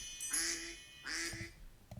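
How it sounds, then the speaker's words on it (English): Two short duck quacks, a second apart, from The Legend of Zelda, clear and close with a faint chime at the end. "And duck is on the right."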